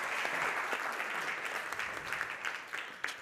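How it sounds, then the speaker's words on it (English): An audience at an economics symposium session gives a sustained round of applause to welcome a speaker, steady dense clapping filling the hall at moderate loudness with no talking over it. "Let's welcome her with a round of applause."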